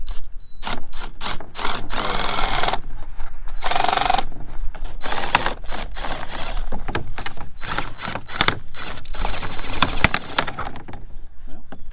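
A drill shear attachment cuts through material in a rapid series of rough, crunching bursts, stopping and starting repeatedly.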